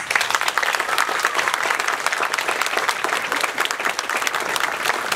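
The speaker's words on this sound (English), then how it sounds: "So if we could give a round of applause to all the parents and families." A room full of people at a graduation ceremony applauds steadily, dense clapping that stays loud and even for several seconds with no talking over it.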